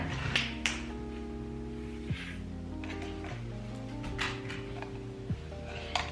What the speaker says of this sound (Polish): mój brat w tle układa kostkę i pstryka palcami